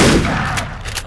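A shotgun blast in a first-person video game, a loud, dense burst at the start that decays into a rumbling tail, with two brief sharp reports following.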